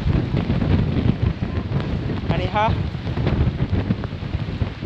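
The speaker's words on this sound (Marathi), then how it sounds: "भन्नाट वारा आणि पाऊस चालू आहे" Strong wind buffets the microphone on the monsoon Kothaligad trek, a loud continuous low rumble with rain mixed in, while a voice speaks briefly over it.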